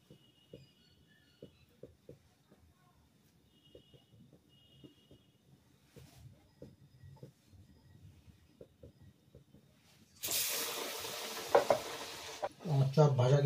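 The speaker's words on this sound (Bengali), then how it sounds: "এবার একটা একটা করে আমি অল্প আছে এগুলো ভেজে নেব।" Paneer chops deep-frying in hot oil: a quiet kitchen with faint clicks gives way to a sudden loud, steady sizzle and bubbling that fills the last few seconds.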